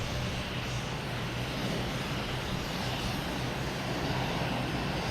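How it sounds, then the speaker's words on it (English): An Air Portugal Airbus A321neo jet arriving at Boston Logan makes a loud, steady roar of engine noise that fills the whole stretch without a break. "next new in is Air Portugal. Coming in from Ponta Delgada."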